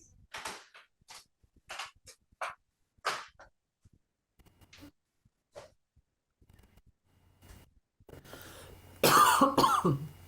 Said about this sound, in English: You have to cut out all these coughing,